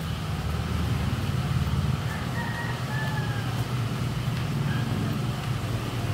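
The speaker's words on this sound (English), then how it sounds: "You hear the rooster cock-a-doodling" A rooster crows faintly, buried in a dense, steady street din of traffic and crowd noise in Baclaran, Manila, a couple of brief calls rising over the constant roar.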